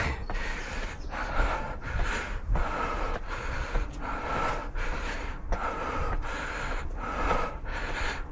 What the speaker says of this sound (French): On entend ma respiration